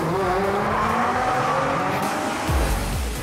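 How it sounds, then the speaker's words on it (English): Super GT race cars on the grid rev their engines, a close, loud mix of rising and falling engine tones with a short rough burst near the end, no talk. "The cars are on the grid ready for race 2 of the weekend"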